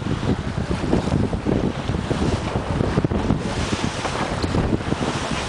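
Strong wind roars over a sailboat beating upwind at about 20 knots under jib alone, a steady loud buffeting on the microphone mixed with rushing water and waves throughout.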